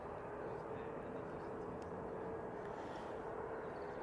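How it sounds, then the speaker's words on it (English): Hainan Airlines Airbus A330 taking off at Manchester Airport, a faint, distant steady jet engine roar holding evenly across the whole short stretch. "quite a late rotation there for the Hainan A330"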